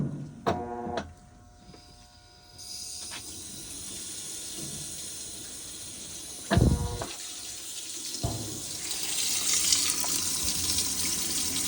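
Water rushes into a Whirlpool/Maytag washing machine that had been failing to fill. After a hum and a couple of clunks, a steady hissing flow begins, grows louder and fuller, and carries on to the end.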